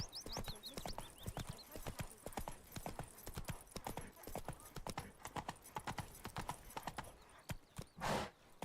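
Horse hooves galloping in The Witcher 3: Wild Hunt, a rapid, steady clip-clop rhythm close up, with a brief whinny-like breath near the end.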